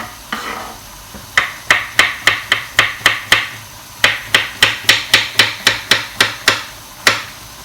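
A knife chops vegetables into little circles on a board, about twenty crisp, evenly spaced close taps in two quick runs split by a brief pause.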